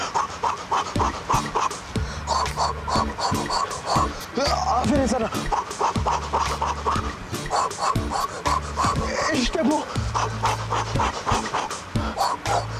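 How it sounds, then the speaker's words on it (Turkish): A person breathes in quick, rhythmic pants, close and loud, over background music, with a short stretch of encouraging speech. "hızlı nefes al"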